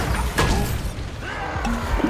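A Bombarda blasting spell goes off in a Harry Potter video game, a short crashing burst with whooshing magical tones and mechanical clatter around it, fairly loud and close.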